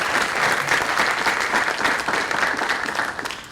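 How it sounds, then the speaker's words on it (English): An audience applauds at a high school scholarship night in Sinton, Texas, dense sustained clapping from a crowd that tapers slightly at the end. "Please give yourselves a round of applause."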